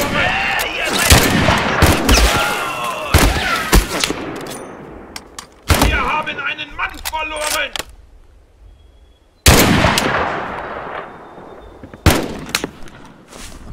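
Gunfire in the war video game Mud and Blood: loud, close bursts of rifle and machine-gun shots in several volleys separated by brief lulls, with crackling echoes trailing off between them.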